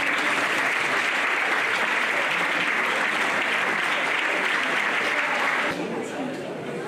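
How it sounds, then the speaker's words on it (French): Audience applause at a ceremony for young ski trainees in Auron and Isola 2000, a thick continuous clapping that runs strong for most of the stretch, then thins and fades toward the end. "Je pense que vous pouvez applaudir à M."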